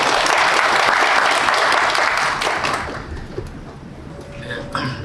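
Audience applause at a Korean literary award ceremony welcoming a congratulatory speaker: loud, dense clapping from the hall that fades gradually toward the end, leaving a few scattered claps and faint room noise.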